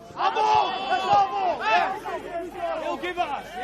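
A football crowd at Green Gully's ground during an NPL Victoria night match between Green Gully and Heidelberg United shortly after kickoff, with shouts and cheers rising over a steady murmur of nearby voices.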